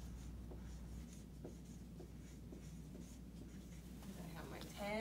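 A marker or chalk scratches numbers onto a board during a place value lesson, faint intermittent strokes over a low steady hum.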